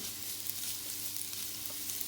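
Steady, close sizzling of chopped cabbage frying in oil in a pan, a continuous hiss with faint crackles and no talking.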